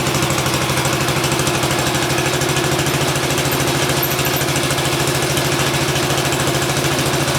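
A tractor engine with too much oil in its system and long unused idles steadily and loudly on its own, a rapid even low chugging pulse that holds unchanged with a constant rumbling vibration throughout.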